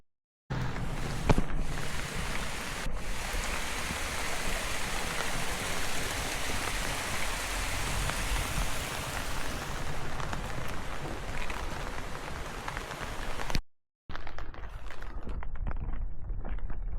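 Small waterfalls along a path to a university campus in Kobe produce a steady, broad rushing of water that continues without a break, with a brief gap near the end.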